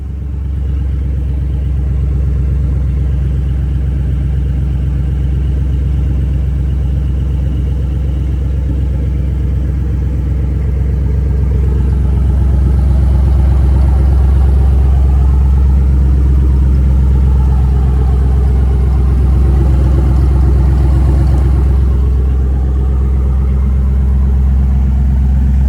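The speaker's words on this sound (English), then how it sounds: "I just started it up just to kind of blow out anything that might have still been in the exhaust there" A Ford Mustang with a reworked exhaust manifold idles loud and close, its deep, even engine rumble holding steady throughout with only slight swells.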